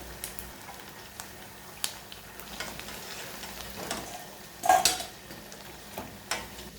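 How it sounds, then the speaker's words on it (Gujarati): Sabudana and potato vadas deep fry in hot oil with a low, steady sizzle, punctuated by a few utensil clinks and one louder scrape near the pan. "એ જ ઉકળતા તેલમાં ફરીથી વડા ઉમેરી દઈશું, જે વધેલા હોય એ બધા"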